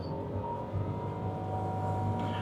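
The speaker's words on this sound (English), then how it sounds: "as I accelerate the motor, the engine also accelerates to charge up the battery so that we can" The petrol engine of a Nissan Kicks e-POWER runs as a generator to charge the battery while the car accelerates, a low, steady harmonic drone heard from inside the cabin with no talking.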